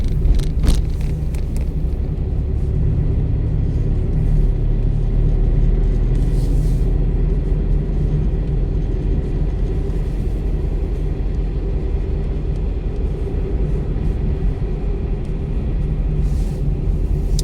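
Car driving on the road, heard from inside as a loud, steady low engine and road rumble throughout with no talking.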